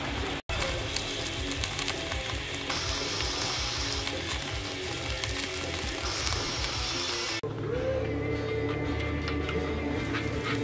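Thick chuck eye steaks searing on a BBQ grill give a steady, dense sizzle that runs unbroken and fairly loud, with no talk.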